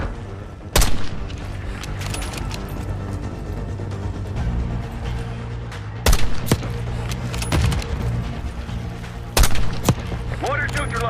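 Mortar blasts and gunfire in Call of Duty Black Ops 6, three sharp heavy booms spaced several seconds apart over a continuous rattle of shots and battle noise, loud and close, with shouting voices mixed in.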